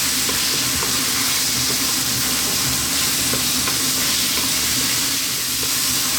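Black pepper, salt and spices stirred in a pan over lively high heat for a vegetable chili, sizzling loudly and continuously close up, with a dense steady hiss and faint scraping of stirring throughout.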